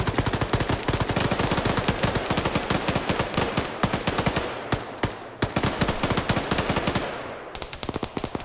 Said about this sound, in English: Now the BTR is shooting at him